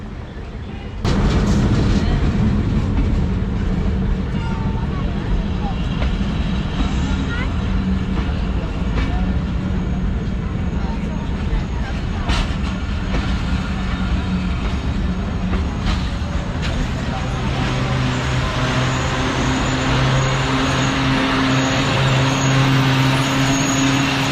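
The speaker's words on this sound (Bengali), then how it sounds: "রাজশাহী কমিউটার রোহনপুরের উদ্দেশ্যে এই মুহূর্তে প্রবেশ করছে আমনুরা রেলওয়ে জংশনে" Rajshahi Commuter train pulling into and leaving Amnura railway junction, its steady loud rumble and wheel noise filling the whole stretch, with a brief quiet start and a few sharp clanks over the continuous roar.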